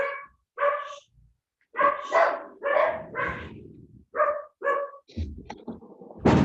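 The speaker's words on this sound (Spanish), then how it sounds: "Se escuchan bastante perros ladran" Several dogs bark in short, sharp bursts, some yelping, with brief pauses between volleys; fairly close and loud, with a low rumble near the end.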